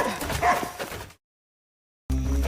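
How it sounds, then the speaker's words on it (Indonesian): In a film scene, a fierce dog barks and yips briefly amid other noise, then a sudden silence, followed by a low droning hum. "Hingga mereka pun dikejar oleh guguk yang sangat galak."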